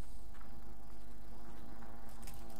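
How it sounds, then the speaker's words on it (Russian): Wasps buzz steadily in the video game Fable: The Lost Chapters, a continuous droning hum over game ambience that lasts the whole moment without pause. "Гребаные осы. Терпеть не могу."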